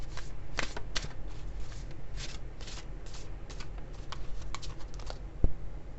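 Spirit Animal Oracle cards being shuffled for a tarot reading, a steady close-up riffle and patter of card stock running continuously with soft crisp flicks and one sharper tap near the end.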